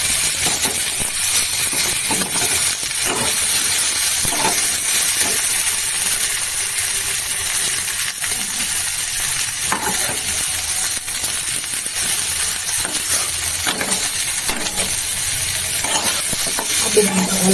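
Potatoes added to a pan and cooking for a jackfruit curry, giving a steady, loud sizzle and hiss with occasional stirring clinks, no talking.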